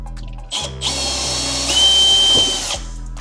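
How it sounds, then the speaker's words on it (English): A power drill with a 5mm bit whines steadily, rising in pitch as it bites into material, then winds down; a short motor burst comes just before it. "so you just drill a 5mm hole"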